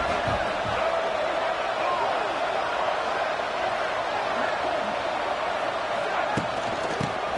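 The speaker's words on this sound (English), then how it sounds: "the crowd coming to life here, trying to help this defense down in the red zone." A stadium crowd at a high school playoff football game roars steadily in the background, a broad continuous wash of noise swelling as the defense holds near the goal line.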